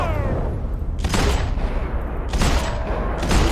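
Bursts of weapon fire from the video game Max Payne 3 come in loud, dense volleys, a sustained rattle with heavier bursts near one and two and a half seconds.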